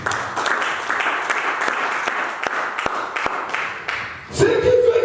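A church congregation applauding and acclaiming Jesus, with rhythmic, roughly unison clapping in a moderately loud room, then a brief rise of voices near the end.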